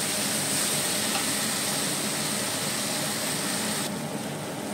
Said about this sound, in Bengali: ভালো করে কষাবো এই মশলা।